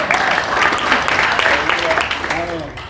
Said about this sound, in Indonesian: Bapak-bapak nggak usah tepuk tangan, kita ini ibu-ibu.